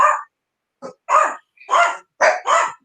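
A small dog gives five sharp barks in quick succession, close and loud. The barks are separated by short silences, with no talking.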